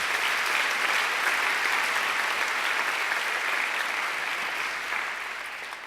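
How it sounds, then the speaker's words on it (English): Sustained applause fills a hall at a university graduation ceremony for the volunteers, a thick, even roar of many hands clapping that eases slightly near the end. "they deserve a great round of applause too"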